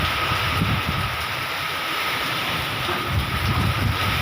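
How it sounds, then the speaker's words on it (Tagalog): Steady roaring typhoon wind with rain buffets the scene with a constant broadband rush, gusting slightly louder at moments, like a storm blowing outside. "Pero malakas ang hangin. Sinasabayan na rin ng ulan."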